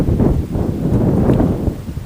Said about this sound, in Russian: Ну, сильный ветер